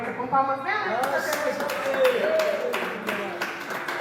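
Worshippers in a church clap together for Jesus, the rhythmic claps building after a moment under a continuing voice.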